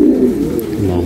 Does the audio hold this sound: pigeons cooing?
yes